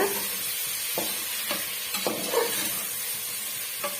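Tomatoes sizzle and fry in a pan for a white chickpea biryani, with a steady hiss broken by several distinct stirring scrapes at a moderate distance, and no talking.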